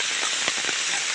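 Steady rain pours down in a forest at a rattan planting site, a loud, continuous broadband hiss with faint pattering drops scattered through it and no voices.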